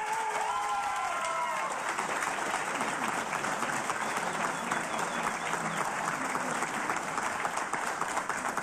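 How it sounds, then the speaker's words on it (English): Town hall audience applauding in answer to a yes-or-no question on marriage and divorce, a loud, steady wall of clapping with some cheering that holds for the full length, a brief voice at the start. "Those who believe yes, please applaud."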